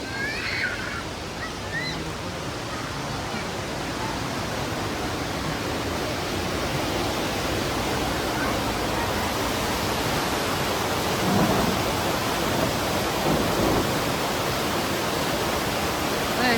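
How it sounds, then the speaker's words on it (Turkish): Continuous rushing water from the Saitabat waterfall in Bursa, Turkey roars steadily, a dense broadband wash of flowing water close by with no voices. "şelalenin suyu böyle akıp giderken"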